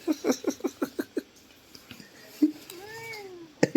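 A cat gives a quick run of short meows followed by a couple of longer, rising calls, close and fairly loud, with a person's voice talking to it in between.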